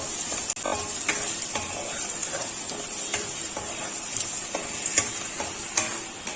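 Green chillies fry in hot oil in a pan while garlic kuzhambu is being made, a close, continuous crackling sizzle with sharp pops and spatters scattered throughout, no voices.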